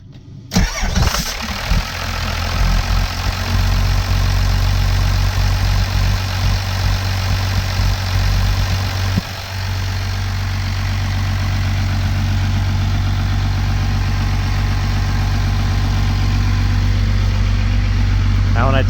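A 12-valve Cummins diesel engine with its fuel shut-off solenoid wire reconnected cranks briefly, catches and settles into a loud, steady, rumbling idle that runs on continuously, with a short dip partway through.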